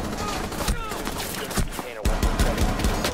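Rapid game gunfire from a tactical shooter match, dense bursts of shots crackling continuously at close range, with a brief dip before a fresh volley, while players talk over it.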